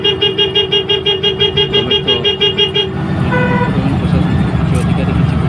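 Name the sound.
bus pressure horns honking at bus stand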